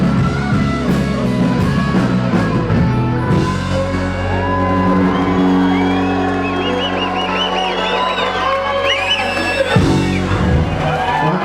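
Tribute band gig crowd cheering, whooping and yelling, a loud sustained mass of shouts with music harmonics underneath, swelling again near the end.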